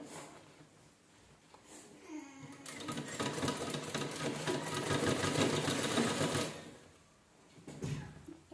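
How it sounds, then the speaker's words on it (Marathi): A sewing machine stitches a child's cap made from an old shirt, starting with a few soft clicks and then running in a steady, loud whir for several seconds before stopping, followed by a short burst near the end. "व्यवस्थित शिलाई करून घ्यायची शेवटपर्यंत एकसारखं."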